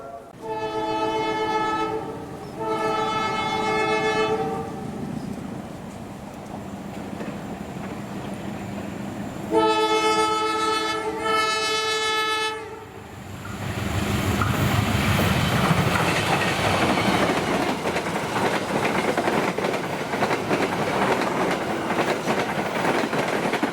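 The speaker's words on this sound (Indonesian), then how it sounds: "Oke, udah lewat kereta api Airlangga 7050A." Airlangga 7050A passenger train sounds two long blasts of its horn, then thunders past at close range with a loud, steady rumble and clatter.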